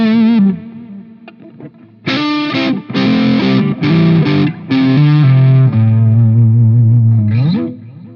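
Electric guitar through a NUX Recto distortion pedal set to an open, overdrive-like tone, playing a few sustained distorted chords and double stops with short gaps, loud and close with no talking.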